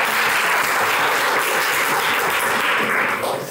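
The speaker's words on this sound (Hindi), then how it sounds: "लवकुश के लिए पहले तो तालियाँ बजाओ" An audience in a career-guidance session claps steadily and loudly for a student, a dense continuous applause lasting throughout and tapering slightly at the end.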